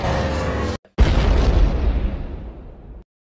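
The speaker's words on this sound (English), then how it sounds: "I'm a firing my laser!" A cartoon laser fires with a dense, loud buzzing blast, cuts off, then a booming explosion follows and decays over about two seconds before silence.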